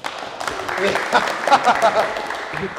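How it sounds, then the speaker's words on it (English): Audience applause for a volunteer at a strongman yoke training talk, a steady moderate patter of clapping mixed with voices and brief cheers throughout. "Round of applause."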